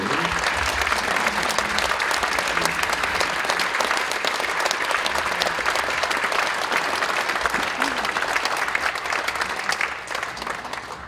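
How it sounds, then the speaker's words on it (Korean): A church congregation at a retiring pastor's farewell service claps steadily and loudly for the full stretch, a dense, sustained wash of many hands that eases slightly at the very end. "여러분이 박수로 격려해 주셨으면 좋겠어요"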